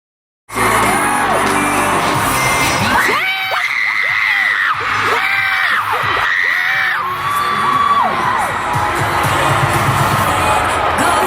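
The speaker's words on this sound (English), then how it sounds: "you just hear the massive amount of fans just going" A huge arena crowd of fans at the Billboard Music Awards screams and cheers wildly, a dense continuous roar with rising shrieks and whoops swelling over and over throughout.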